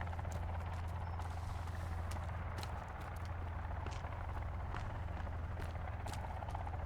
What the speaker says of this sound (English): There's a helicopter. Where? I hear it.